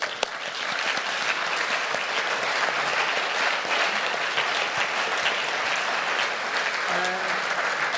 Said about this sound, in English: I wanted you all to give a very big applause to Corinne Flick.